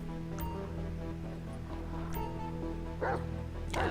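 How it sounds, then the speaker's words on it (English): Mangy stray dog in the GTA Online video game giving soft barks, yips and whimpers under a steady game background hum, with faint voices in the mix. "Oh, look at the dog!"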